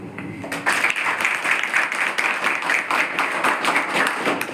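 A crowd at a tribal development department Mission IAS event in Amaravati claps loudly in a steady, rhythmic stream of close hand claps lasting several seconds, with no voices over it.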